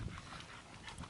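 Tired dogs pant quietly, a faint, rapid, breathy rhythm close by, with a soft whimper-like note at the start.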